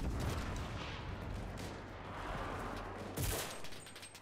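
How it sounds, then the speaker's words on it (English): Shotgun blasts in a video game battle, heavy booming shots amid dense ongoing gunfire and explosions, loud and close throughout. "Oh, I missed with the shotgun!"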